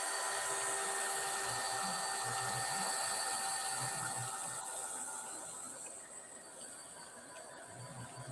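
A hair dryer blows steadily on wet mica shimmer paint on a Latino folk art piece, a continuous close whooshing hiss that eases slightly in loudness toward the end.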